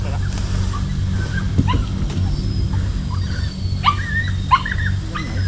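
Dogs at a home kept with many others whimper and give a few short yips over a steady low hum, with occasional soft cries spaced a second or two apart.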